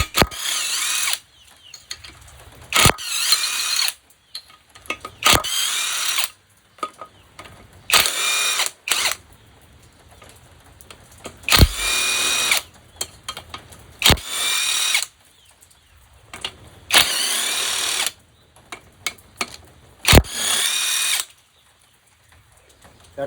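A 1/2-inch impact wrench works bolts off a Briggs & Stratton single-cylinder lawn tractor engine in short, loud rattling bursts close up, separated by quiet pauses and small clinks of parts and tools.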